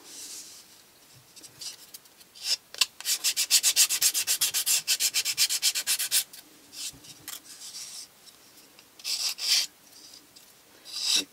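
Fine-grit sandpaper is rubbed by hand over a wooden piece in fast, even strokes, a close scratchy rasp repeating in a steady rhythm, pausing, then resuming in shorter bursts.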